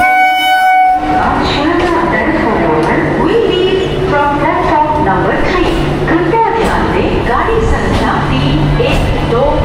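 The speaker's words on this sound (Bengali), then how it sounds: "শিয়ালদা থেকে আমাদের ট্রেন ছাড়ার কথা ছিল 8:55 2 মিনিট লেট, অর্থাৎ 8:57 আমাদের ট্রেন ছাড়লো" A Shantipur local train pulls out of Sealdah station with a loud rumbling rush of wheels and carriages. A horn-like tone sounds at the start, and chatter from a busy platform carries under the noise.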